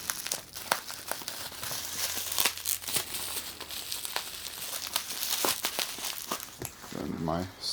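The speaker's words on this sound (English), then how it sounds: "unboxing things like this" Package packaging crinkles and tears during an unboxing, a busy run of crisp rustling, crackling and ripping close to the microphone, with a brief voice near the end.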